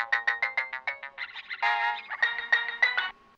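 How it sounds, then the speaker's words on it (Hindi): Mobile phone ringtone chiming indoors at night, a rapid series of bright electronic tones in a repeating melodic pattern, fairly close and clear with no talk over it. "माँ मेरा फोन बजा है।"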